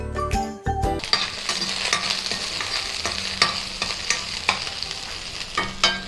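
Small shallots being sautéed with spices in a pan, with a close, steady frying sizzle broken by frequent metallic stirring scrapes and clinks throughout and no one talking.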